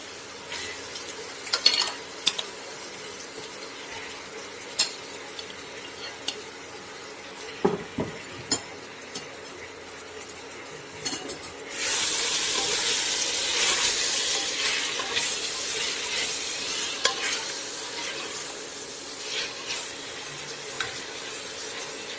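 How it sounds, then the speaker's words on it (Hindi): Mutton frying with garlic, ginger and onion in a pan: quiet stirring clinks and scrapes at first, then a steady louder sizzle takes over, with occasional utensil taps, no voices. "लहसुन अदरक और प्याज के साथ हम गोश्त को अच्छे से भून लेंगे 3 से 4 मिनट तक।"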